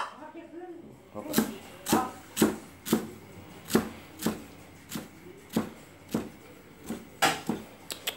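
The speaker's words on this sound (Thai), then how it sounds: "หลังจากนี้ก็หั่นอันนี้ไว้เลยครับ" A knife chops ingredients on a board for a northeastern Thai catfish om curry, about a dozen sharp, evenly spaced thuds in a steady rhythm, close by, while someone talks.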